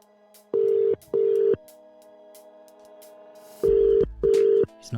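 A phone call placed over Bluetooth through a Rodecaster Pro: clear, loud dialing and ringback tones in pairs of short bursts separated by a long pause, over a faint steady hum.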